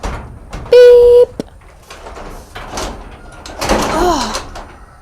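Cheap shed doors on a chicken coop knock and slide open and shut several times in quick succession, with a loud high squeal partway through and rattling clatter near the end.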